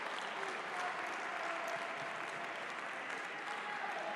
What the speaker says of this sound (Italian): E si prende tutti gli applausi